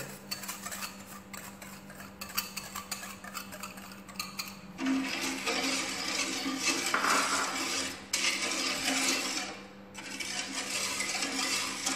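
A spoon stirs an agar-agar pudding mixture with sugar and pineapple syrup in a pot, scraping and clinking steadily against the metal, close and continuous, with a low steady hum underneath.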